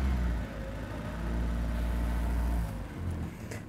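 A 1972 Triumph Spitfire MkIV 1300 engine with the car out of gear, heard close as a low rumble that swells with a blip of throttle, holds, then eases back toward idle and rises slightly again.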